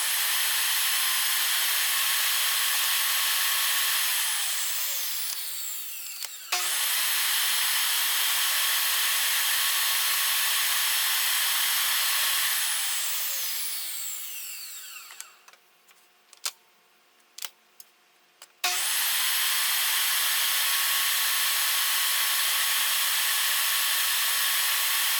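A table saw cutting a dado in wood, the loud whine of the spinning blade rising and falling across repeated passes, with brief pauses, scattered ticks and knocks between cuts, and no talking.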